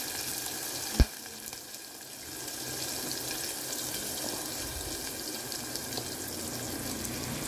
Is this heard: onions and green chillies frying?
yes